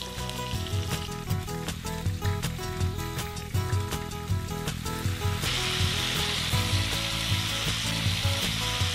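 Shrimp cooking in a pan as simmering broth is added, giving a steady sizzle and bubbling with stirring scrapes and faint clinks, close and continuous throughout.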